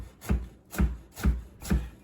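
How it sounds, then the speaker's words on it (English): Knife chopping an onion on a board for seafood risotto, four evenly spaced soft thuds with light scraping, close and fairly quiet. "we're cutting an onion up for our risotto to get it started"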